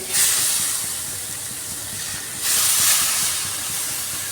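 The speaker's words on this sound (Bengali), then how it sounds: "কড়াইয়ের মধ্যে আমি কোনো তেল দিচ্ছি না মাখা মাছ আর সবজিটা দিয়ে দিলাম" Marinated fish and vegetables hit a hot wok with no oil, bursting into a loud steamy hiss that settles, then surges again in a second strong wave before easing off.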